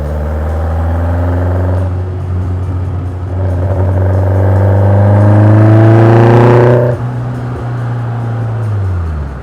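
A Caterham Seven 1700 Super Sprint sports car engine hums loudly and close while driving, rising in pitch as it accelerates, then dropping as it eases off and settles into a steady drone.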